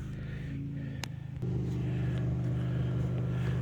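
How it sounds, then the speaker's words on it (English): A 1999 Toyota Camry LE V6 engine idles with a steady low hum, then settles into a slightly louder, even drone partway through. No other sounds intrude. "I already got the car running. That's what you hear in the background."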